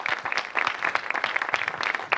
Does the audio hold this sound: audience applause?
yes